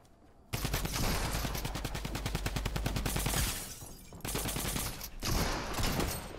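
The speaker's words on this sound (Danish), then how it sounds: "Jeg kan høre skud." Rapid gunfire from a Fortnite arena match rattles in dense bursts, loud and close, with a brief lull before more volleys of shots resume.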